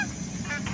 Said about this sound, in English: The usual V formation from the geese coming out in this area here